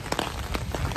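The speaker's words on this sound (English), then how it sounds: "It's raining." Rain pouring steadily outdoors on a college campus, a dense patter of drops striking surfaces with a few louder splashes, close and fairly loud with no talking.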